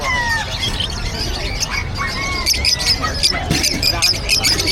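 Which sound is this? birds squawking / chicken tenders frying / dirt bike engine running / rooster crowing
birds squawking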